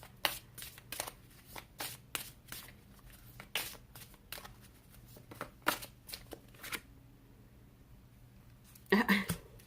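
Tarot cards shuffled by hand in a quick series of crisp, papery riffles and slaps, close and fairly loud, with a brief spoken moment near the end.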